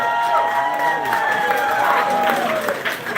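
Applause and cheering from a live polka concert audience honoring a Polka Music Hall of Famer keyboardist, steady crowd clapping with sustained musical tones ringing underneath throughout.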